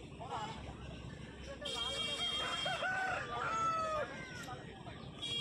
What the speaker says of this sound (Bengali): খুব ভালো কোয়ালিটির মোরগ এটা।